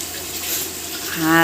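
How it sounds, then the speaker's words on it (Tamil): Lemon water poured into a large pot of chicken biryani base with sautéed tomatoes and onions, a steady watery splash and sizzle building louder toward the end, close by. "இப்போ வந்து நம்ம லெமன் தண்ணியை ஊற்றிடலாம்."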